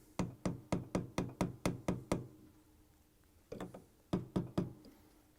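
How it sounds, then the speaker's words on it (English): Mallet strikes drive gears onto a Whirlpool washer shaft through a 3/4-inch socket: a rapid run of about nine sharp metallic knocks, a pause, then a shorter burst of five more, close and loud with no talk. "I'm using a 3/4-inch socket head and a mallet to punch them on"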